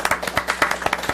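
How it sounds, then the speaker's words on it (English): Scattered clapping from a small group at a school district board of trustees meeting, brisk uneven claps close by over a short burst, no talk. "That deserves an applause."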